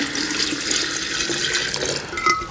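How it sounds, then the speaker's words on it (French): Water poured from a tap or jug onto chopped beets in a jar for lacto-fermented beet kvass, a continuous close, loud splashing and gurgling fill with a brief bright splash near the end, no voices. "Et je complète le tout par de l'eau."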